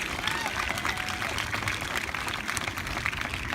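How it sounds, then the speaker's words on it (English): A crowd at an outdoor protest rally against greyhound racing gives sustained applause, a dense steady wash of clapping with murmuring voices mixed in. "let's give a big round of applause"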